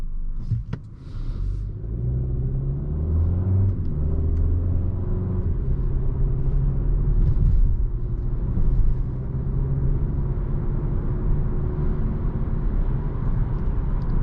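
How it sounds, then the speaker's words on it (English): The 1.6-litre turbo engine of a 2021 Hyundai Sonata Limited hums as a low, smooth, steady drone while driving, with road rumble and a brief swell of acceleration partway through. "This is a very smooth engine, and it gets up to speed nicely."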